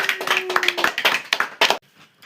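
Hand clapping at a lively family gathering, a quick run of sharp claps that is loud and near, then stops abruptly into near silence.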